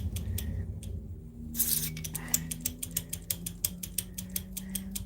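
A control on a 1978 Marantz 4430 quad receiver, sprayed with DeoxIT, is worked back and forth, giving a rapid series of close, crisp mechanical clicks and scrapes after a short spray hiss.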